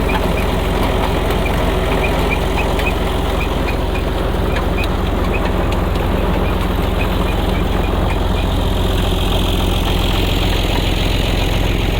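A tractor engine runs steadily to drive a borewell pump in a village, with a loud, constant mechanical drone and a faint rhythmic knock that carries on unbroken from start to finish.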